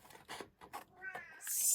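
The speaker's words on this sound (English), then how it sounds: "So my cat's yelling again." A house cat yells with a couple of short meows, faint to moderate and somewhat distant, followed by a rising hiss of noise at the end.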